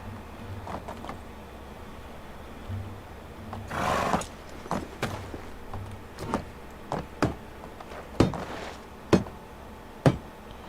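Horse in the medieval survival game Medieval Dynasty gives a short snort or whinny, followed by a run of sharp, evenly spaced thuds and clops over a quiet background hum.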